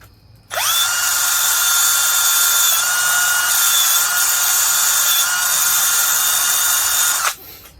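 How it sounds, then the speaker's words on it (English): An electric drill spins a brass wire brush against the metal top end of a KE100 motorcycle engine, a loud, constant high whir and scrubbing for about seven seconds, then stops. "I'm not putting downward pressure, I'm letting the drill do it"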